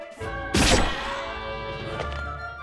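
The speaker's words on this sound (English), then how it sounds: "it's just explosions" Explosions in the video game Trillion: God of Destruction: one sharp, loud burst with a brief crash, then a lingering rumble and a smaller thump, over a sustained musical drone.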